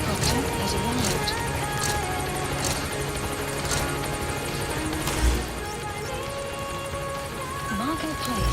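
A support helicopter arrives in the video game Metal Gear Solid V, its rotor drone rumbling steadily under game sounds and a voice, with a brief thump partway through.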